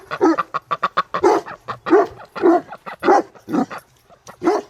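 A dog named Doug barks repeatedly beside a lake during a morning rush at ducks, loud close woofs in quick bursts with short gaps, no talking.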